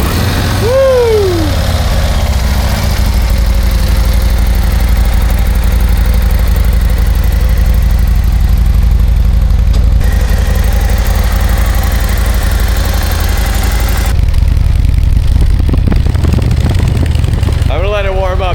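A Harley-Davidson Road Glide CVO RR motorcycle engine idles loudly and steadily up close, with a deep continuous rumble and a brief rising whine near the start.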